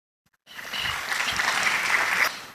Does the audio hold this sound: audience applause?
yes